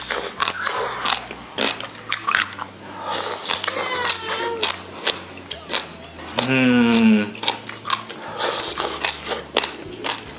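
Crunchy, spicy dried radish is bitten and chewed close up in loud crisp bursts, with speech between the bites and a chair or door creak partway through.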